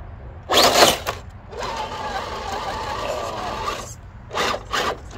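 An RC crawler with a Hobbywing Fusion Pro 2300kv brushless motor tries to hop over logs, making short rasping bursts and a sustained grinding drive of tyres scrubbing against wood, close by.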